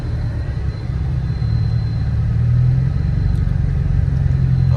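A Chevrolet Camaro approaches at a car meet with a deep, steady engine rumble that grows slightly louder and nearer over a few seconds, with no talking over it.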